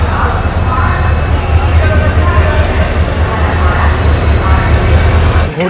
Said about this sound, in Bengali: ট্রেন আমাদের ছাড়লো হাওড়া থেকে।